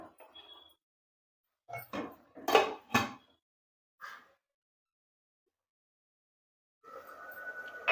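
A pot lid lifted off a simmering cauliflower curry gives a few short metallic clatters and knocks close by, then quiet, followed by a rising hiss of steam and bubbling.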